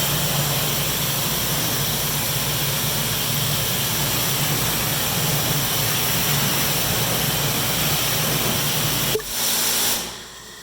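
Water spray rinsing soap off a truck, a steady loud broadband hiss running continuously for about nine seconds before cutting off abruptly, leaving a quieter background.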